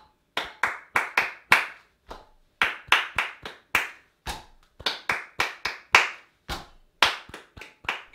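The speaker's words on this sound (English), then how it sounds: "Stomp, clap, clap, clap, clap, clap." A group of children in a music lesson performs a rhythmic ostinato of sharp, close handclaps, punctuated by stomps, in short repeating bursts with brief pauses between phrases; no talking.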